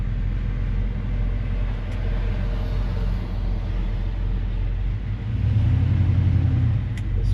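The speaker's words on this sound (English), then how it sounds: "Get to drive another absolute beauty 1958 GMC 100 Restomod." A 1958 GMC 100 Restomod truck's engine runs with a low steady rumble, rising slightly near the end as if revving, with no one talking.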